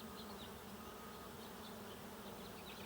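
A honey bee swarm buzzes steadily outdoors near a tree, a dense continuous drone of many insects at moderate distance, with no pauses and no talk.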